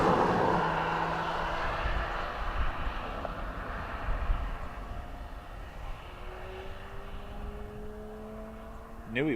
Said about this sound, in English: Delta 330 Neo, heading back to Boston.